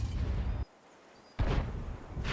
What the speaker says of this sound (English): And that was a nasty blind shot.